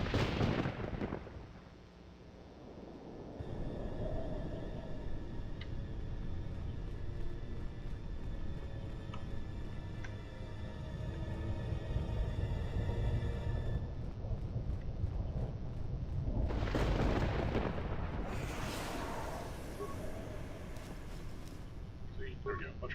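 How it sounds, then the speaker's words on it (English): Several grenades go off in KOTOR 2, Star Wars Knights of the Old Republic, heavy booming blasts that start the stretch and return later, with a rumbling battle din filling the gaps between them. "See, there we go. Bunch of grenades."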